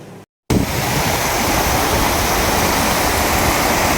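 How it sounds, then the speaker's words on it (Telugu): Floodwater from the Upper Manair river after heavy rains rushes past as a loud, constant roar that starts suddenly after a moment of silence and then holds steady, close by. "మానేరు నుంచి వెళ్తున్నటువంటి వాటరు చూడవచ్చు మొన్నటి వర్షాలకు"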